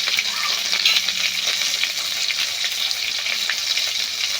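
Bengali five-spice seeds (panch phoron) sizzle and crackle steadily in hot fish oil left from frying fish fat, a loud continuous fry with small spits and pops throughout, no talking.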